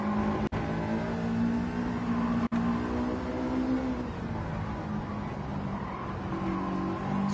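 A Honda S2000 in Gran Turismo 7 on Grand Valley Highway 1 revs continuously at high pitch through throttle changes, its steady engine whine broken by two sharp clicks, with no talk.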